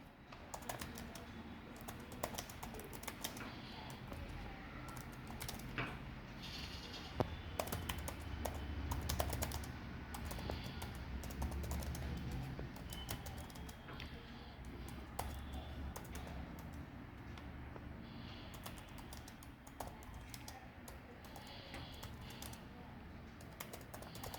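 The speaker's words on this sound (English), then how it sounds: "So I have to retype it." Steady, continuous clatter of keystrokes on a computer keyboard during a typing speed test, with the keys tapped close and fairly loud throughout, no voices over it.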